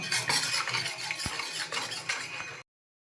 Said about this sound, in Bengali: এর মধ্যে একটু নুন আর একটু গোলমরিচ গুঁড়ো দিয়ে ভালো করে এটাকে গুলিয়ে নেব।